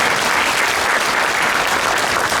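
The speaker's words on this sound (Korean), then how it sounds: "우리 박수 한번 하겠습니다." Dense, loud applause fills a pastors' prayer meeting in Busan and Gyeongnam, a continuous wash of many hands clapping with no voices over it.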